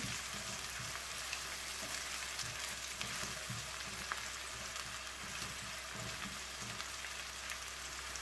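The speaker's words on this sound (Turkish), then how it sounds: "Kavrulan soğanlarımızın üzerine Kırmızı biber ve yeşil biberimizi de ilave edelim." Red and green peppers fry on top of browned onions, making a continuous soft crackling sizzle close by, with light irregular pops and no talking.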